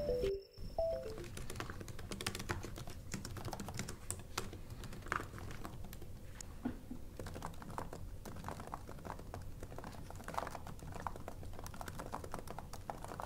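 Rapid, soft clicking of fingers typing on a Lenovo Xiaoxin laptop's soft, short-travel keyboard, continuous and close, with an irregular patter of keystrokes throughout.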